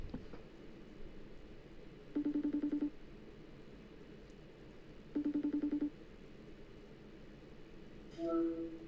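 A phone ringing out while calling a friend at night: two bursts of rapid repeated ring tones separated by a quiet pause, then a short final tone, over a low steady background hiss, no talking.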